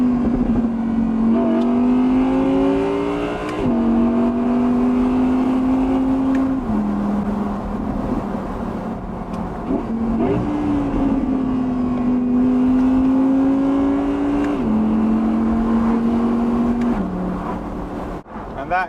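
A V10 engine in an Audi R8 Spyder, a fast, powerful sports car, revs loudly and continuously, rising and falling in pitch through several throttle blips and gear changes, sitting close and alone with no talk over it.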